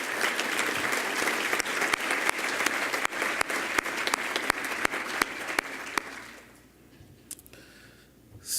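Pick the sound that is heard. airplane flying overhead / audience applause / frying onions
audience applause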